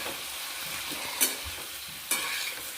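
Onion, chilli and turmeric sizzle in hot oil for a Bengali puti fish and crushed fig curry, a constant close frying hiss broken by two sharp clicks of the stirring spoon.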